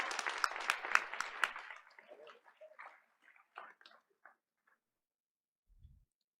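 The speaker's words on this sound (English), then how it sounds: "let's please give our Sankofa scholars another round of applause." Audience applause at a Board of Education meeting: a brisk round of clapping for about two seconds that quickly thins into scattered, fading claps, then near silence.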